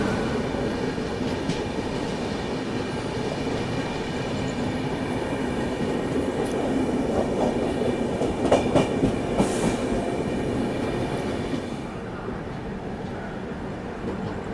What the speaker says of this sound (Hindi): अभी अपनी ट्रेन पहुंच रही है थ्रिसूर रेलवे स्टेशन में और यहाँ पे निजामुद्दीन से तिरुवनंतपुरम सेंट्रल जाने वाली राजधानी के साथ अपनी क्रॉसिंग हो रही है।